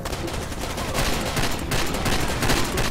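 Gunfire in the Far Cry 2 video game: dense, sustained shooting with rapid automatic bursts overlapping into a constant crackling fusillade at some distance, loud and continuous for the whole stretch.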